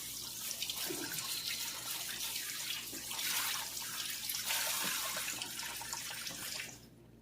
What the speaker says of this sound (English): let me rinse my fingers again